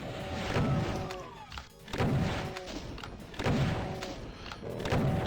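Rocket launcher firing at a Baron in DOOM, several heavy booming blasts spaced about every second and a half, each followed by a rumbling decay and accompanied by other game effects.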